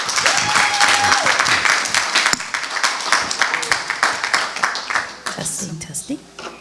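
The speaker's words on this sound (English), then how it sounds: "round of applause for Katie." Warm applause from a conference audience welcoming a speaker at a climate change event, dense clapping that thins into scattered individual claps over several seconds with some voices mixed in.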